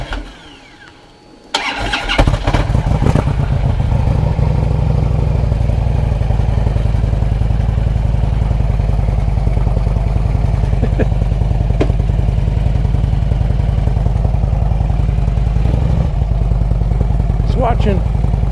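A Harley-Davidson Road King motorcycle engine starts, then settles into a loud, close, loping idle as it warms up on a cold day.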